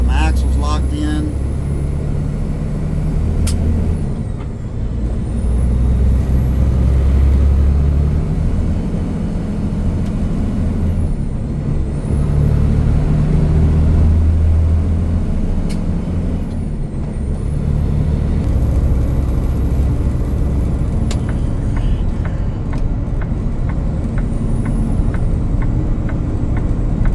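Vehicle stuck on an iced-over surface with its axles locked, engine droning loudly and continuously as the wheels spin out, the pitch rising and falling in repeated surges over roughly half a minute.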